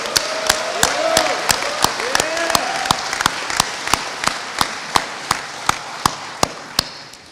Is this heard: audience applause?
yes